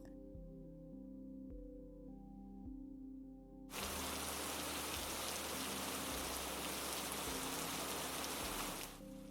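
Heavy rain pours down steadily, a dense, loud hiss that starts abruptly after soft music and fills the rest of the scene without pause, with no talk over it.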